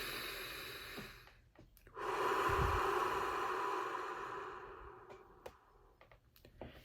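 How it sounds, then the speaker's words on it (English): A single slow, deep breath during meditation swells up and fades away over several seconds, soft and close, with quiet room noise around it and no talking. "Focus on breathing in, breathing out."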